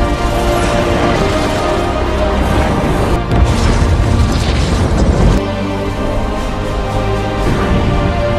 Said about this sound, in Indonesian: Kapten Davis pun harus meledakkan bom tersebut, yang membuat Kamran dan semua anak buahnya mati dalam ledakan tersebut.